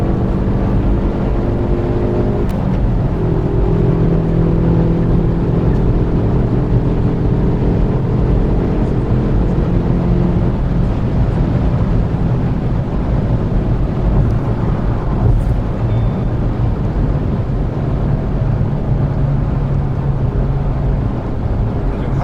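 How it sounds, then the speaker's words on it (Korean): Hyundai Veloster N engine pulling hard at full throttle in fifth gear at speed, a steady loud drone with rising pitch mixed with road and wind roar, no voices. "풀악셀 한번 쳐볼게요"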